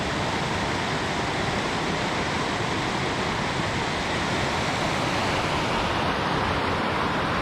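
Steady, dense rush of river water along the Cooper River in the Alpine Lakes Wilderness, a continuous broadband roar close by with no breaks and no voices.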